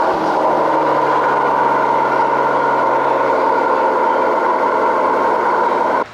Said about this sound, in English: It has a V12 engine